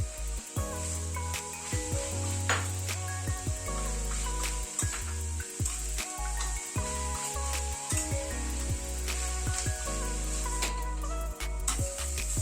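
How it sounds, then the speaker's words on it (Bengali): Grated radish and green peas fry over medium flame in a wok, a soft continuous sizzle broken by scraping, clattering stirs of a spatula; fairly quiet, with no voices. "মূলো ঘন্টটা প্রায় আরো 7-8 মিনিট ধরে ভাজা ভাজা করে নিলাম"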